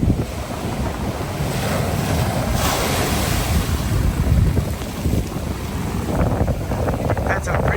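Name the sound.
ocean waves breaking on the shore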